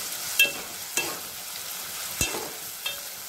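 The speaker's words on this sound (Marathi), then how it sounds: "कांदा व्यवस्थित आपण परतून घ्यावा" Onion sautéing with ginger garlic paste in a pan: a soft, even sizzle with a few isolated stirring scrapes and knocks, close by and moderately quiet, no speech.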